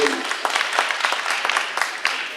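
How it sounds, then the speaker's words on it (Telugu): Audience applause at an awards ceremony, a dense sustained clapping from a crowd filling the hall, with a voice briefly audible beneath it. "ఒకసారి చప్పట్ల ద్వారా అభినందన తెలియజేయబడుతుంది"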